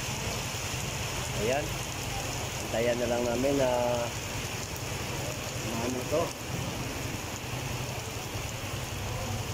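Heavy rain pours down steadily in a loud, constant wash, with a person talking over it in Tagalog.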